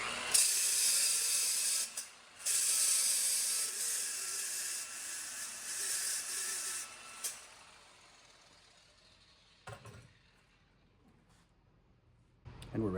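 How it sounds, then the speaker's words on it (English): Pad cleaner sprays loudly onto a polishing pad while polishing the lower hull of a 1984 Chris-Craft Catalina 381 boat, a harsh hissing spray in long bursts, then quieter handling noises. "I take the pad cleaner, and this just loosens things up a little bit"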